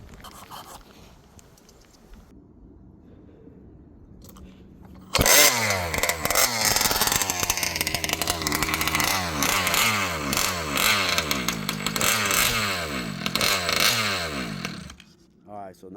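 A 71cc ALX gas engine, out of tune, bursts to life after a quiet stretch and runs loud and close for about ten seconds with rough, surging revs, then sags and dies away as it fails to settle into an idle.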